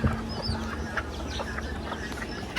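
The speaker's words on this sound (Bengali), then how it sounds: "মুরগিগুলোকে খাবার দিচ্ছে" Farm chickens clucking while being fed alongside pigeons, with several short overlapping clucks and squawks scattered through a busy, fairly close backyard flock.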